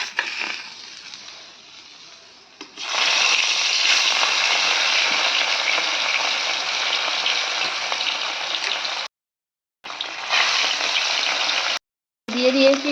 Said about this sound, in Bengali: মাছ এখন ভাজবো আমি